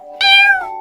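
Cartoon kittens let out a single drawn-out, high-pitched meow, loud and close, over a steady background tone, with no talking.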